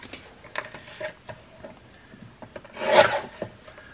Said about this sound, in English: So we're going to trim the bottom off.